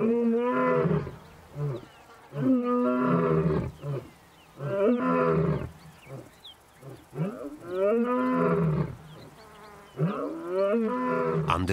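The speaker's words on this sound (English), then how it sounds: "the Pride males roar to proclaim their ownership of the territory." Male lions of a pride in Nakuru roar repeatedly at Pride Rock to proclaim territory, a series of loud, deep, moaning calls in rhythmic bouts with brief pauses, close and clear over quiet surroundings.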